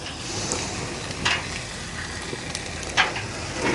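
Eggs fry on a gas camp cooker outdoors, giving a steady close sizzle with small pops and crackles, with wind gusting across it and no talk.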